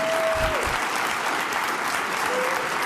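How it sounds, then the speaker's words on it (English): Studio audience at a talk show applauding continuously, a dense even wash of many hands clapping with faint crowd noise and brief tones underneath. "people are laughing and clapping because they're paid."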